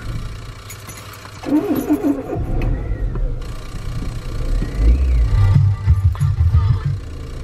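A car engine struggles to start on a cold morning at about three degrees, cranking and coughing unevenly before catching into a rough running note, with brief talk nearby.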